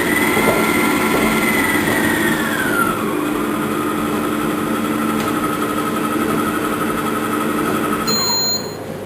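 A stand mixer with a K beater runs continuously at low speed, giving a loud, close motor drone with a whining tone that shifts pitch early on.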